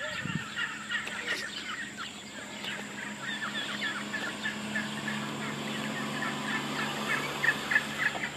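Turkeys gobble and call in a park barnyard at Rockefeller Preserve State Park, a steady chorus of repeated gobbles over a constant background hum, close and moderately loud.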